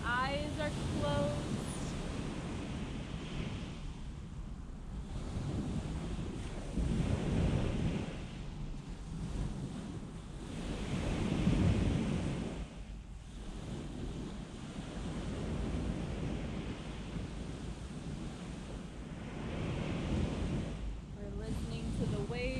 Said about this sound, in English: We're listening to the waves.